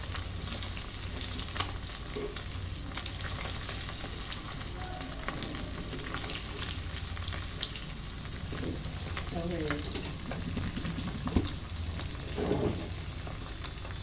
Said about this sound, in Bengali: দুই পাশে মোটামুটি মুচমুচে ভাজা হয়ে গেছে,